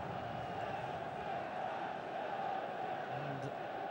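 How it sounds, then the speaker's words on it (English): A football crowd at a cup tie hums with a steady, distant buzz before kickoff, a dense wash of many voices with no distinct shouts. "And this crowd buzzing before the kickoff"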